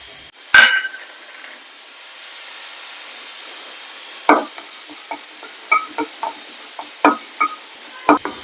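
Coriander seeds, cloves, cardamom and cinnamon roast in a dry pan with a steady soft sizzle, broken by sharp scraping and stirring clinks in an irregular rhythm.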